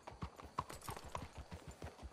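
Horses in Red Dead Redemption 2 clip-clop in a quick, steady rhythm of hoofbeats, soft and fairly close, with no talk over them.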